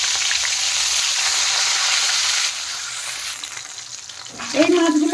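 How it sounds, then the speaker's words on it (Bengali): Pieces of rohu fish fry in hot oil, a loud close crackling sizzle that eases partway through, with a brief faint voice-like sound at the end. "আরো কিছু মাছ বেঁচে আছে, সেইগুলো ভেজে নিচ্ছি।"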